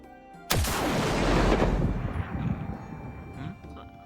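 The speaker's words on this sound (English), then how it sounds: "It's just someone shooting over there." A single heavy gunshot in a VRChat roleplay game, a sudden loud blast followed by a long rolling echo that slowly fades, with no talking.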